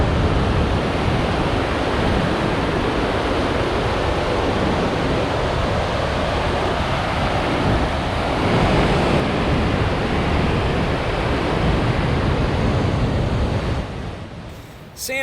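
Granite Creek in the Gros Ventre Wilderness rushes steadily past at high water near hot springs, a loud, continuous broadband roar of flowing water that holds even throughout and drops off abruptly at the very end.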